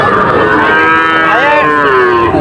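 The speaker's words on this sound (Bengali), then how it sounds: "অনেক গরু আছে।" A single cow at a livestock market gives one loud, close, drawn-out moo that bends in pitch and lasts a couple of seconds.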